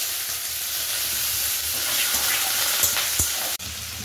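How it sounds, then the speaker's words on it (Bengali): Catla fish fat and oily pieces sizzle in hot mustard oil in a pan, a loud, continuous close-up hiss with a short clatter just after three seconds and a sudden dip near the end. "তেল গরম হয়ে গেছে, এর মধ্যে এই তেল চর্বিগুলো"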